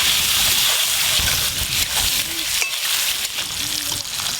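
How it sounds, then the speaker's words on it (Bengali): Eggs frying in a pan with turmeric, salt and chili powder, a steady hiss and crackle of hot oil with stirring and scraping sounds, close and continuous. "ডিমের কারির জন্য প্রথমে ডিমগুলো ভালো করে ভেজে নেব"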